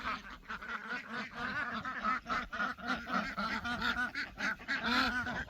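A flock of farm ducks waddles through an opened pen gate, a busy stream of overlapping quacks and honking calls, close and lively throughout.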